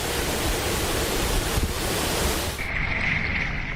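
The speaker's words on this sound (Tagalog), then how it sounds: "Binabayo ang mga puno ng malakas na hangin na tila sumisipol at humahambalos." Strong typhoon wind from Typhoon Rolly in Bicol roars continuously with a broad rushing noise of gusts and rain lashing trees, loud and close to the microphone, with no voices.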